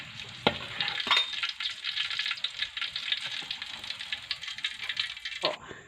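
A stuffed omelette fries in hot oil, giving a steady, close crackling sizzle that runs throughout, with a few louder pops and spatula scrapes near the start and end.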